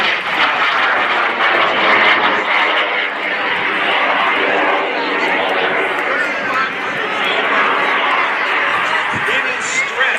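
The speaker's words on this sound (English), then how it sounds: "Watch him come down, level off to speed above the deck," Aerobatic airplane pulling up at the MCAS Cherry Point air show: a loud, steady engine roar fills the whole stretch, with crowd or commentary sounds mixed underneath.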